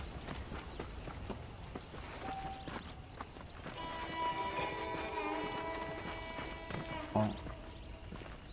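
Horse hooves clip-clopping in the Red Dead Redemption game, a steady moderate trot under game music and someone talking briefly.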